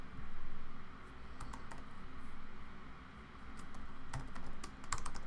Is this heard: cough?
no